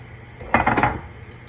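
A sausage is lifted out of a frying pan onto a cutting board, with a short cluster of metallic clatter and scraping from the pan and utensils lasting about half a second, then quiet.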